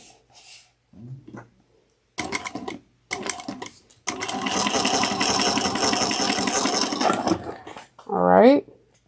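A sewing machine stitches darts in fabric for a tablet clutch, running in a couple of short bursts and then one longer steady whirring run, close and clear, with a brief voice near the end.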